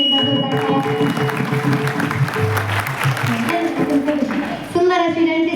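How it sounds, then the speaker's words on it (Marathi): An audience at a kirtan gathering claps loudly and continuously throughout, the dense applause mixed with sustained tonal music and a voice underneath. It drops briefly near the end before resuming. "त्यांच्यासाठी सुद्धा एकदा जोरदार टाळ्या."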